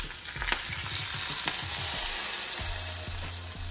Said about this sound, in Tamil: எண்ணெய் நல்லா காஞ்சோடனே கொஞ்சம் சோம்பு, கொஞ்சம் கருவேப்பிலை, கொஞ்சம் பட்டை, இந்த சோம்பு நல்லா பொரிஞ்சு வந்தோடனே நம்ம குழம்புல ஊற்றிடலாம்